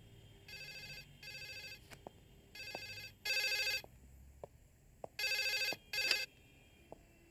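An electronic telephone rings in short repeated bursts, close and clear, with faint clicks in between and a quiet background.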